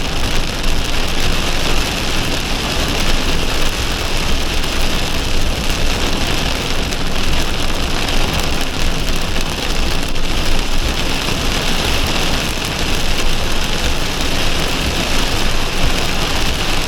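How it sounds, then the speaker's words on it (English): Light drizzle falling around a boat sailing in Turkey, a steady dense patter on surfaces, close and constant throughout with a faint engine hum beneath. "we've got a bit of drizzle,"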